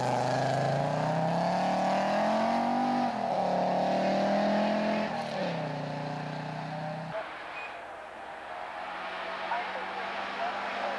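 A Dodge Omni rally car at the 1989 Rally of the Tall Pines roars past with a loud engine that rises and falls through gear changes, then drops away abruptly into a distant, fading drone.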